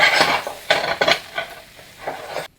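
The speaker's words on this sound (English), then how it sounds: "now after everything has been added and sauteed for a bit," A utensil stirs stuffing ingredients for stuffed pig trotter in a pan, giving close scraping strokes over a light sizzle before the sound cuts off abruptly.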